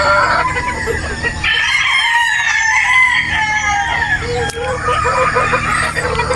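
Gamefowl roosters crow repeatedly from pens on a game farm in Batangas, several calls overlapping and some clucking, loud and close, with no talk.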